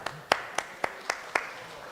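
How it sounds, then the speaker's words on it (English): A few sharp, separate claps ring out in a lecture hall on architecture, about six evenly spaced hits over two seconds, sparse and fairly close. "Applause for the technician."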